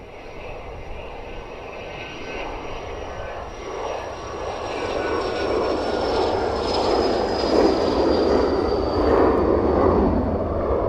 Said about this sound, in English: So Learjet 45, this one's going to go ever so quickly.